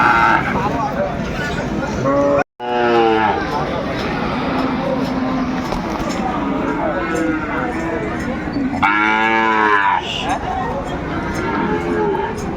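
A Sahiwal bull calf moos twice, a drawn-out call early on and another near the end, over steady crowd chatter and background noise at a cattle market.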